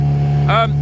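A fishing boat's engine drones loud and close while under way off Whitby, a steady low hum, with a short burst of a voice rising over it near the end.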